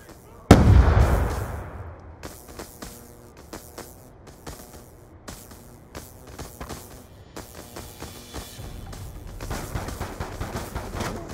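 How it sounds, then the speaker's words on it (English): Frag grenade blast in Black Ops 2 Search and Destroy: one heavy close explosion with a rumbling tail, followed by scattered gunfire pops and faint game chatter and voices underneath. "Throwing frag."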